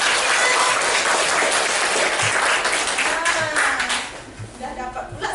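Classroom applause from children, dense clapping that carries on strongly and then thins into scattered claps as a teacher's voice and children's chatter come through.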